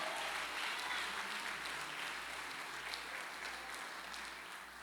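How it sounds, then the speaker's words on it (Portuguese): A church congregation at a family worship service applauds, a continuous wash of many hands clapping at moderate distance, with a low rhythmic thump pulsing steadily underneath throughout. "aplaude ao Senhor"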